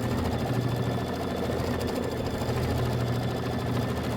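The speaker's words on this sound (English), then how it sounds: "It's going to do 4 minutes of stitching." A Kimberbell embroidery machine stitches a mini quilt block, a steady, continuous mechanical hum with a fast rhythmic chatter running evenly throughout, fairly close and unbroken, with no talking.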